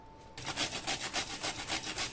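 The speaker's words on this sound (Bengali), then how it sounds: "জয়ফলকে আমি এখানে গ্রেট করে দিচ্ছি" Whole nutmeg grated for a Bengali-style country chicken marinade, a steady run of quick rhythmic rasping strokes, close and clear, starting after a brief quiet moment.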